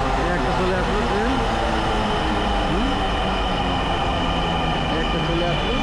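A Dhaka metro rail train arrives with a steady loud rumble and rising motor whine, heard from nearby while voices talk over it.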